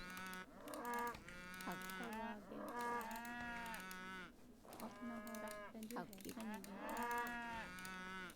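Several cattle moo in Age of Empires, with long, drawn-out calls following one another steadily across the whole stretch, loud and close over a low game background.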